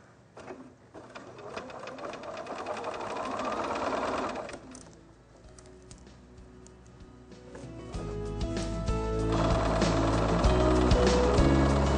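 A sewing machine stitches quilt patchwork pieces in rapid continuous bursts of whirring needle clatter, pausing briefly mid-way before running again faster and louder, close by with no talk.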